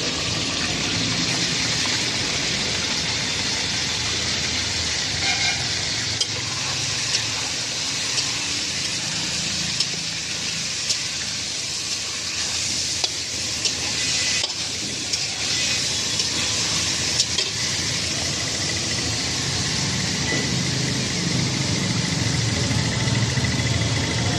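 Two and a half kilos of mutton frying in hot oil in a large pot, producing a loud, dense, continuous rushing sizzle that holds steady throughout, close and without talk.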